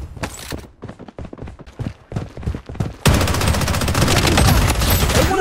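Gunfire in the video game Blood Strike: a burst of separate loud shots, then a dense, continuous barrage of rapid automatic fire that fills the rest of the clip.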